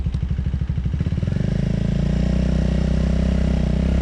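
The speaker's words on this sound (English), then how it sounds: "the bike sounds pretty good with the quick shifter, even though it's a single cylinder" A single-cylinder Triumph Speed 400 motorcycle engine thumps through quick gear changes with a quickshifter at first, then holds a steady, loud drone close by.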